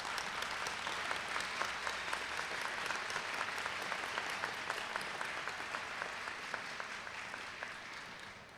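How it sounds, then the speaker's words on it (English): Steady, dense applause from a large indoor audience at a college GED graduation ceremony, sustained clapping that holds level and tapers slightly near the end. "Would you please rise, and let's give them also a hand of applause."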